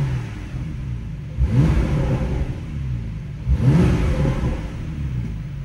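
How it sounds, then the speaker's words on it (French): A parked Porsche 911 (991) Carrera 4 GTS with a 450-horsepower flat-six runs at a steady low idle, with two smooth revs that swell and fade, close and loud. "Donc on entend vraiment le flat 6."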